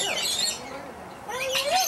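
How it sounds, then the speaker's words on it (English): Birds chirp and tweet at the Oregon Zoo, a few short, fairly faint calls close by over soft background noise. "You want to feed a different birdie now?"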